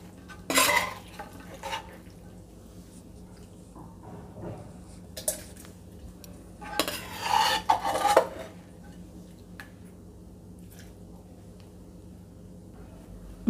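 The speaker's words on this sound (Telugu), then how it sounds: "ఇప్పుడు టొమాటో ముక్కలు ఇవన్నీ కూడా చల్లారిపోయినాయి, ఇప్పుడు మిక్సీ జార్లోకి ట్రాన్స్ఫర్ చేసుకుందాం." Cooled pieces of raw green tomato for chutney are scooped from a pan into a mixer jar: scattered metallic clinks and spoon scrapes arrive in short bursts separated by quiet pauses.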